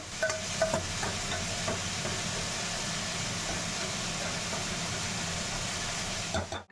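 Potatoes fry in a pan with a steady, loud broadband sizzle that holds constant throughout, with a few faint clinks near the start and an abrupt cut at the end.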